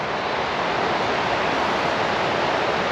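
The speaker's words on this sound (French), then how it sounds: "Regardez-moi cette cascade." A waterfall in sunlight near Archena, Spain, heard as a steady, dense roar of rushing water, constant and loud without pauses.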